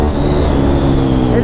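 A Ducati Hypermotard 821 motorcycle engine pulls hard on the road during a test ride, a loud, steady, dense roar with a slight rise in pitch and constant wind noise.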